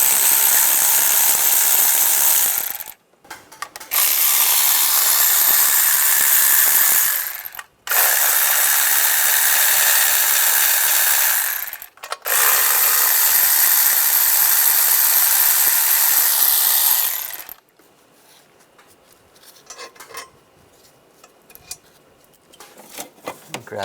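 A ratchet loosening a nut on the intake of a 1996-2002 Toyota 4Runner, sounding in three long, loud, continuous bursts separated by brief pauses, then fading to quieter handling noise.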